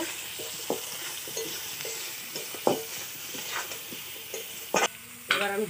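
Turmeric and dry red chili powder being stirred into hot oil while cooking a fish curry: a steady sizzle with scraping spoon strokes and a few sharper clinks near the end.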